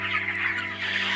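A flock of chickens clucking on a poultry farm, a close, continuous chorus of overlapping clucks over a steady low hum.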